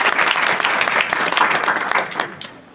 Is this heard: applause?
yes